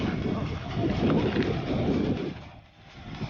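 A motorboat passes on the water during a family fishing trip, a rumbling engine drone mixed with wind noise that swells and then briefly dips.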